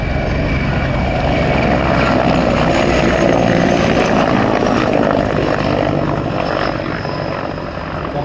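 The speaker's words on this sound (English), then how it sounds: "here's a high-speed pass from the Mi-24 Hind" A Mi-24 Hind helicopter makes a high-speed pass at an airfield, its loud multi-bladed rotor and turbine roar filling the air steadily before easing slightly at the end.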